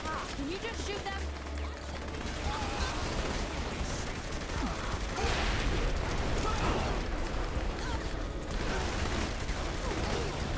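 Gunfire in Saints Row The Third, with a dense, continuous barrage of shots and mechanical clatter, loud and close, mixed with game noise and no clear speech.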